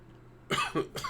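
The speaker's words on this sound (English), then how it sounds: "Excuse me for coughing in your face." Someone coughs nearby, a quick run of three harsh bursts in about half a second.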